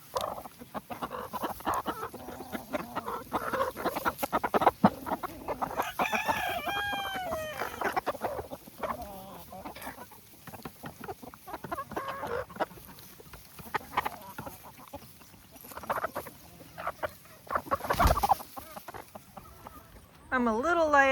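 Backyard chickens clucking and rooster calls around a coop, a busy flock at close range with varied squawks and clucks throughout, a voice talking intermittently among them.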